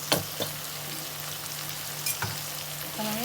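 Fish masala sizzles and fries steadily in a pan with sauce added, with a few sharp scraping strokes of a spoon stirring it near the start and again midway, all close and continuous.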